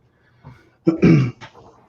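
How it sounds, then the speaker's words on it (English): A single short, dry cough with a bit of throat clearing, close by, preceded by a faint murmur. "you got a dry cough"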